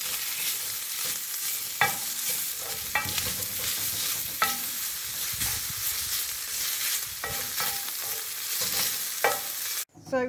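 Bacon fries in a pan with a constant hiss of fat and scattered sharper pops and crackles over about ten seconds, heard close with no voices.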